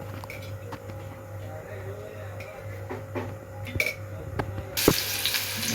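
Chopped onion frying in a pan for a village-style curry with an onion-coconut masala, a soft steady sizzle with a low hum beneath, growing louder and brighter toward the end.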